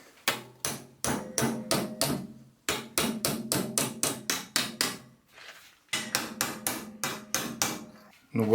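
A hammer strikes a metal car body panel edge on a Citroen BX to fold it over, landing sharp, close blows in quick steady runs of several hits with brief pauses between.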